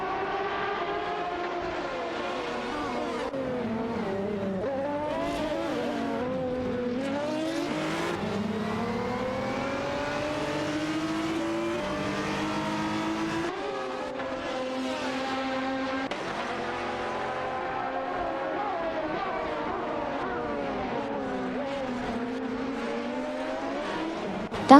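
Race cars in an AI-driven racing video game roar continuously, engines revving and shifting with sweeping pitch changes as several cars jostle for position, loud and steady throughout with no voices.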